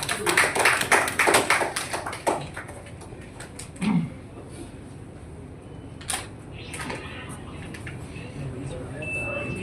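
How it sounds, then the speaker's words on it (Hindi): At a community gathering in Chhattisgarh, a crowd greets the state president of the Domar society with a short burst of clapping that quickly thins into scattered claps, followed by quieter room noise and a few bumps. "जोरदार तालियों के साथ स्वागत"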